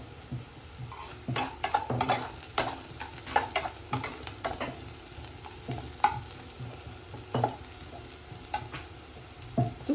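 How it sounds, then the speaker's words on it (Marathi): Onions fry in a pan with a soft, continuous sizzle, broken by irregular scraping and tapping as a utensil stirs them, close by and fairly quiet. "कांदा भाजायला जरा वेळच लागतो."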